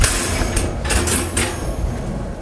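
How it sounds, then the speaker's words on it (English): Metal racks come out of a Blodgett Hydrovection oven with a few sharp metallic clanks and scrapes at irregular intervals over a steady background hum. "And then we'll remove all of the racks"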